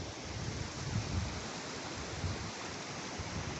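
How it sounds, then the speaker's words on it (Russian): The Uluzden river runs in winter with a steady, faint broadband rushing of water throughout, no voices over it. "Река течет"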